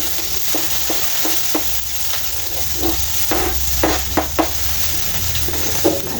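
Eggs with tomato frying for breakfast: a steady sizzle fills the clip, with periodic scraping and stirring clicks from a utensil against the pan, close and moderately loud.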